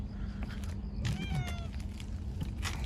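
A large forest cat makes a single drawn-out meow with a gliding pitch, heard close by over a steady low background hum.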